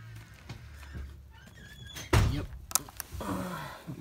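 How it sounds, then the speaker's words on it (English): A house door thuds shut loudly as someone leaves, with a few rattles and knocks afterward and faint room noise around it. "Sorry about the door"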